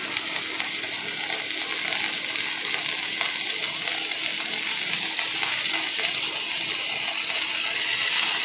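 Marinated lemon pepper chicken shallow frying in a pan, a steady dense sizzle with light spattering crackles that holds evenly throughout, close and continuous with no talking.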